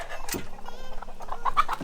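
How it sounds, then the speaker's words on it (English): Hens in the hen side of a chicken flock at a fire and rescue station cluck in short, scattered bursts at moderate volume, with brief patters and rustles between the calls. "This is the hen side of the flock"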